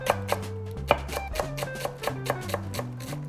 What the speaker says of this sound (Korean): 먼저 대파는 이제 송송 썰어서 준비를 해 볼게요.